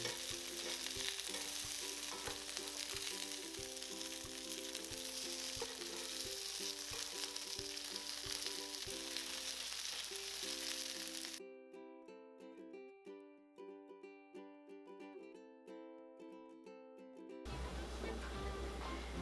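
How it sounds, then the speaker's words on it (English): Turnip cake pan-frying until golden gives a steady close sizzle under a tuneful backing melody. Partway through, the frying drops out and only the music carries on for several seconds before the sizzle returns. "we're going to place the turnip cake in the pan and cook until lightly browned for about 30 seconds on each side."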